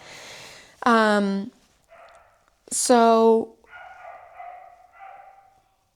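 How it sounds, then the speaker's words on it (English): A dog lets out two loud, drawn-out barks or howls a couple of seconds apart, followed by quieter muffled sounds. "I really hope you guys don't hear the barking in the background."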